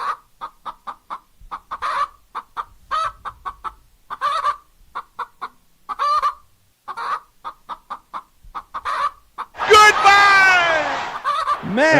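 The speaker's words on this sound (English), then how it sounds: "we won't play the chicken song anymore" A novelty chicken song with clucking hens, rapid rhythmic clucks repeating in a steady pattern, then a loud rooster-like crow swelling near the end.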